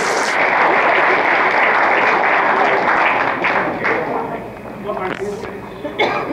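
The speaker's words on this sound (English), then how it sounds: "Go ahead, give yourself a big round of applause." A crowd applauds loudly and densely for several seconds before the clapping thins into scattered claps, with voices talking over it toward the end.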